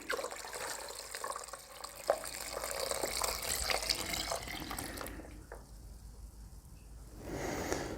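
Water runs into a gallon jug for making mead, a steady splashing pour that shifts in tone as the jug fills and briefly quietens before resuming, heard up close with no talk.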